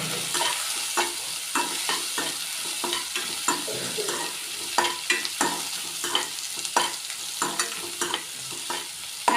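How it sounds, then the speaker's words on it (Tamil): Tomatoes fry in a pan for chutney, a steady sizzle broken by regular scrapes and knocks of a spoon stirring, close and fairly loud. "நல்லா ப்ரௌன் கலர் வர வரைக்கும் நீங்கள் நல்லா வதங்கணும்."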